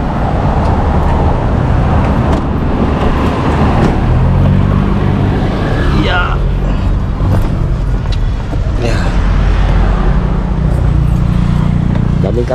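A heavily loaded vehicle drives along a road in Olongapo, giving a steady, loud rumble of engine and road noise throughout, with brief talk over it.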